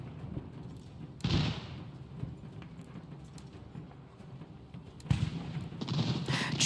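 Two sharp bursts of gunfire from soldiers fighting a battle against Redcoats in a video game, under a constant low rumble of battle noise.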